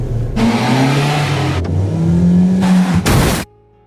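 A car engine revs hard in several loud, rising bursts with brief drops between them, ending abruptly in a sharp burst before near silence, a dramatic film scene leading into a deliberate crash.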